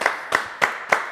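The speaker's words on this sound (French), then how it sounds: "On l'applaudit quand même." Four separate, evenly spaced handclaps close by, sharp and distinct with brief quiet gaps between them, from a small audience at a French television show.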